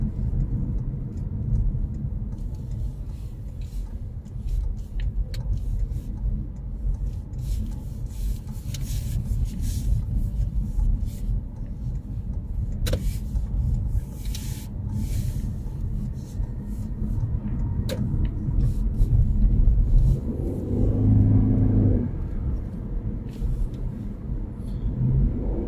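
A car on a UK driving test rounding a roundabout, with a steady low engine rumble and road noise throughout, rising slightly near the end, with no talking.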